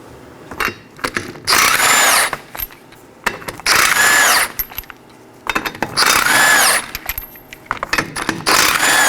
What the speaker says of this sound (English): Now we could go on and remove our 5 21mm lug nuts.